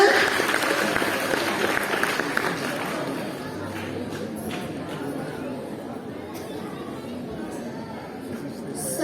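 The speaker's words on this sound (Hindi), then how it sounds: "जोरदार तालियों से स्वागत करें कव्वाली का" An audience at a primary school annual function claps to welcome a qawwali performance, a dense, steady wash of applause that thins out over several seconds and has chatter and a few voices mixed in.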